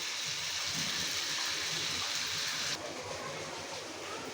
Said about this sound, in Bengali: এই যে আবারও গুড়ি গুড়ি বৃষ্টি পড়ছে